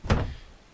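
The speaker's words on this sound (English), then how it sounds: "So if I open this door, for example" In a video game still under development, a door opens with a single dull thunk and a short sliding rumble that quickly fades to quiet.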